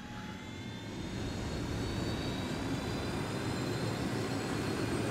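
Steady, loud engine roar of a helicopter in a video game, a continuous broadband drone with faint high whine tones, building slightly and holding without any talk.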